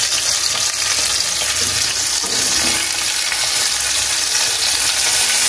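Koi fish frying in a pan of oil, a loud, dense, continuous sizzle and crackle that holds steady throughout, close up and with no talking.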